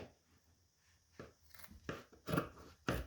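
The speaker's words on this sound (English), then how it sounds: "I got a decent pair of scissors. I just like to cut it." A decent pair of scissors cuts through canvas for a frame, making quiet crunching snips that grow louder, with three or four distinct cuts close to the microphone.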